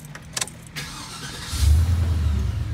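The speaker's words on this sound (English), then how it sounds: "Let's turn on the truck." A GM truck engine cranks and catches, with a few clicks and a brief whir first, then a quick start settling into a steady low idle nearby.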